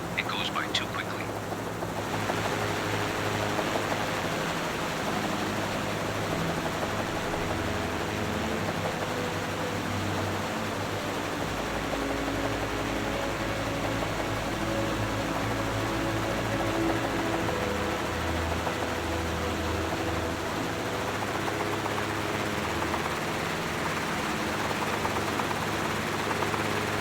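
A steady, loud engine drone from an aircraft flying low and fast in a career-mode video game, continuous and unbroken throughout, with a voice speaking softly over it.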